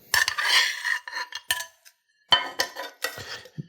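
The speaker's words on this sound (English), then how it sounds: "I'm going to just place them back in this sauce, nestle them in there, maybe give them a flip so they get coated." Pork chops placed and flipped in a pan of mushroom sauce, heard as close scraping and clinking of a utensil against the pan in several short bursts with brief pauses, no talking.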